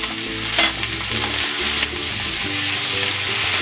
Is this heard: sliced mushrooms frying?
yes